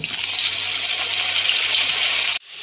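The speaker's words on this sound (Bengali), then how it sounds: "এবার বেগুনটা দিচ্ছি, বেগুনটা ভেজে তুলে নেব" Eggplant frying in hot mustard oil, a loud, close, continuous sizzle that cuts off abruptly near the end.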